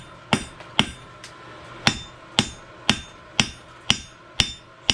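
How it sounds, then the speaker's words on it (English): Hammer blows on a horseshoe being forged, about ten sharp, ringing metallic strikes at a steady, slightly uneven pace, loud and close with no talk. "Now I got carried away there, so I started hammering"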